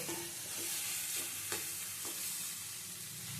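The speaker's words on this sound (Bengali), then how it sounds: "আলু সিদ্ধটা দিয়ে সেটাও মাছের সঙ্গে ভালো করে মিশিয়ে নিতে হবে।" Grated boiled potato is mixed into fried fish in a pan, with a faint, steady sizzle and a few soft scraping strokes of a spatula. The sound is quiet and even, and no one speaks.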